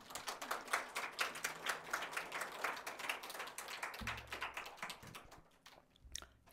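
A church congregation claps together in a dense, steady patter that thins out near the end, with some low rumbling underneath.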